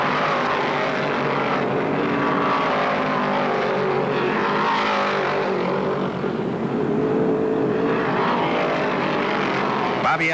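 Plymouth and Dodge stock cars race at Martinsville in the 1972 Virginia 500, a continuous engine roar on an old recording, rising and falling as the cars pass, with a voice talking over it.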